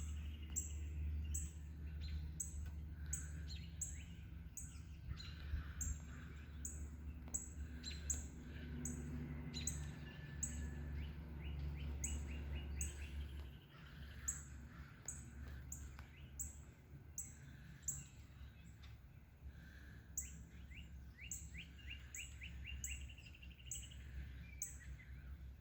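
Many birds chirp and sing outdoors after a morning of heavy rain, with dense, repeated high calls layered over a steady low rumble that runs throughout.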